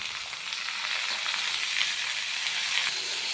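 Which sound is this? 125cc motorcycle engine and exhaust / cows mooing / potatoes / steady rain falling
potatoes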